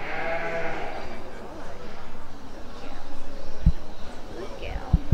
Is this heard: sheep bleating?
yes